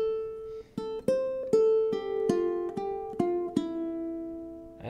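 Ukulele plucks a riff as clean single notes, with a triplet figure near the end of the bar, played alone and fairly quiet.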